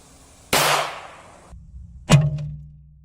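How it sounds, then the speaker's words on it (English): A .22 long rifle fires at a 1 kilo bar of pure gold: a sharp crack, then a second shot about a second and a half later with a brief metallic ring, both close and loud. "My 22 long rifle again and see what it does to that gold."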